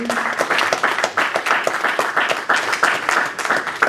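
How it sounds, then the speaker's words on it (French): A church congregation claps for the Lord in steady, rhythmic unison, dense and fairly loud throughout, with no talk over it. "I want you to clap for the Lord."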